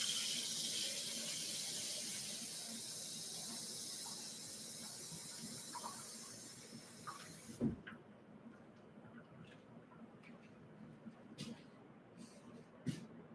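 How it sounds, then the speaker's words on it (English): Ordinary tap water pours steadily into a wide-mouth glass jar with a loud, continuous hiss for several seconds, then stops abruptly, leaving faint drips and small clinks. "And I'm going to fill this with water. Just regular tap water works great for this."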